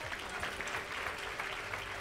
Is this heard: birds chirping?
no